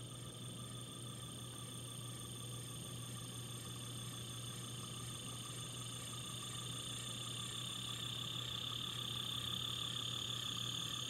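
A model train locomotive, number 7344, run on DC power, starts and creeps slowly along the track with a faint, steady motor hum and whine that rises slightly toward the end, with no voices.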